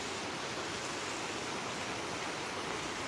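The flooded Malati River rushes past above danger level, a dense, steady broadband roar of fast-moving water with no voices over it.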